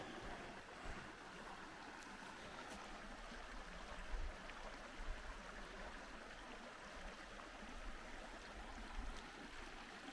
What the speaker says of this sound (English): there's a raging creek too down here